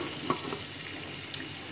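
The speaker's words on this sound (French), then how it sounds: "on fait dorer le poulet de chaque côté" Chicken pieces browning in a hot pan, a soft steady sizzle with a couple of light stirring knocks and a faint clink, close and moderately quiet, no talking.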